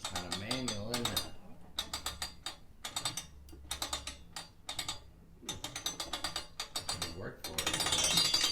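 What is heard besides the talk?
hand-cranked souvenir penny press machine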